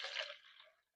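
Marinade liquid poured from a container into an empty coffee container, a soft broadband splashing trickle lasting under a second before cutting off to silence, fairly quiet.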